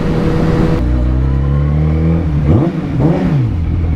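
A motorcycle with a muffled exhaust drones loud and close, then revs up and down in quick swells with a smooth, rounded exhaust tone.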